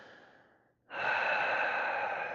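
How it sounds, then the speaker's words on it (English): Slow, soft breathing during a yoga session, a quiet exhale fading to a pause, then a long steady inhale through the nose, close and clear with no talking. "Listening to the sound of your breath. Slow and soft."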